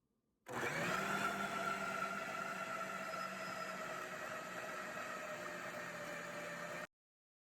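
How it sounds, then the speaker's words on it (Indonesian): Electric blender whirring as it mixes meatball dough with tapioca flour, starting abruptly, running as a steady loud drone for about six seconds, then cutting off. "Kemudian kita blender lagi untuk 2 menit lagi."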